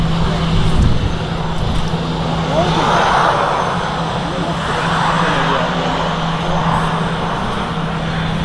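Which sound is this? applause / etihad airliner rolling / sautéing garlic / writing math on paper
etihad airliner rolling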